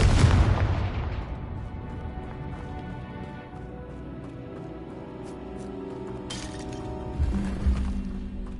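Confringo spell blasts in the Hogwarts Legacy video game: a loud booming explosion with crackling debris at the start, a rumbling tail, then a second burst near the end.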